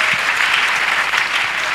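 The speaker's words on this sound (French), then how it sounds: "Acclamation" Dense, even crowd applause during a spiritual direction training session, a continuous wash of many hands clapping at once, fairly loud and with no voices over it.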